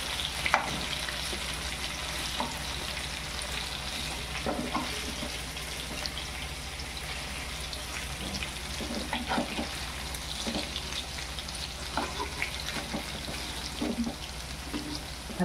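Stuffed brinjals sizzling steadily in a pan on a home stove as they are flipped one by one, with a constant quiet frying hiss broken by soft clicks and taps of the utensil.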